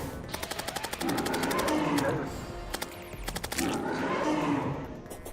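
A Dragon Ball Z–style energy wave attack in Terraria, fired in rapid pulsing bursts that crackle like sustained gunfire, surging twice in loud roaring waves.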